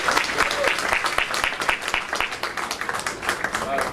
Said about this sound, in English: So I really want to give a round of applause for Ariel.